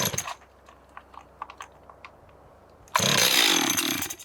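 A used chainsaw on choke gets a few faint pull-start clicks and rattles, then fires and roars loudly and close for over a second of rough running.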